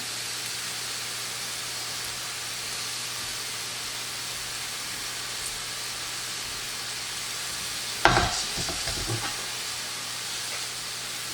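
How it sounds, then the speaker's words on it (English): Fish sautéing in a pan after lemon juice is added, a steady close sizzle and hiss throughout, broken near the end by a brief clatter of stirring or a utensil against the pan, with no voices. "And just saute till that is evaporated."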